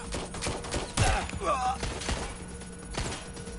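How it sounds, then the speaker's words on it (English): Gunfire during a Watch Dogs Legion shootout, a burst of sharp, fairly loud cracks with one heavy thud near the start and a few scattered shots after, set against game ambience. "I think I just got shot. Right. Taking fire."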